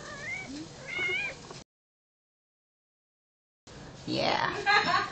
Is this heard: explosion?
no